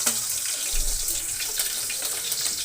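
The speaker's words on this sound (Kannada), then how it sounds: "ಎಣ್ಣೆ ಕಾದಿದೆ, 2 ಮೆಣಸಿನ್ಕಾಯಿ ಹಾಕ್ತಾ ಇದ್ದೀನಿ" Two green chillies hitting hot oil, a steady broadband hiss of sizzling up close with faint crackles, continuous for the whole stretch and no voices over it.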